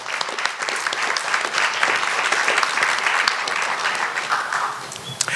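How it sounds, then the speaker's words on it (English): An audience applauds steadily at an oral presentation event, a dense wash of clapping that holds throughout at fairly loud, even level. "let's give them a big round of applause."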